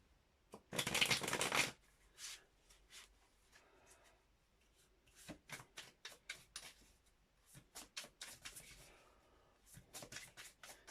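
Tarot cards are shuffled by hand in a quiet room: one dense riffling burst, then a long run of soft, irregular card taps and slides, close and fairly faint.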